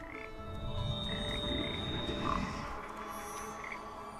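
Frogs croak in the puzzle game Papo & Yo, a dense chorus of low, rattling croaks over steady ambient hum, with a few higher chirps dotted through.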